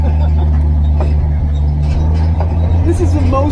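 A 75-year-old Chevy with a manual transmission and weak brakes drives in second gear, its engine a loud, steady low rumble close by, with a few faint knocks and squeaks above it.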